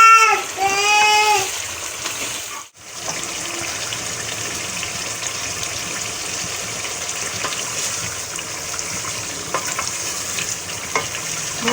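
Chicken sautéing for a gravy in a pan, a continuous close sizzle with occasional stirring knocks; a brief voice is heard at the start before the frying carries on alone.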